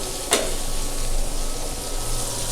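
Flat beans (shim bhaji) fry in a pan, giving a steady close sizzle, with a short sharp scrape early on as they are stirred.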